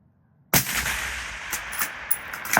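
A single sharp rifle shot fired at a target outdoors in rain and fog, cracking loud and close with a sudden onset, then a long rolling echo that fades over the next two seconds.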